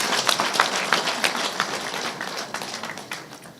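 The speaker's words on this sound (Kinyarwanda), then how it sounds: "Mukomera amashyi Mpyisi." An audience at a memorial gathering applauds, with a moderate, somewhat sparse patter of hand claps that slowly thins out over a few seconds.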